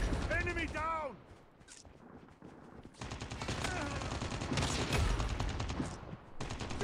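Rapid automatic gunfire from the mobile shooter game Call of Duty Mobile rattles in dense, sustained bursts, with a short quieter gap between volleys and faint voice-like sounds mixed in.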